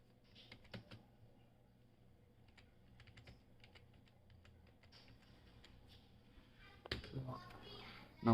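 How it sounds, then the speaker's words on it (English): Fairly quiet tapping on a computer keyboard while entering HTML for a beginner website build, with scattered clicks through the first half and a denser burst of typing near the end. "simply type here"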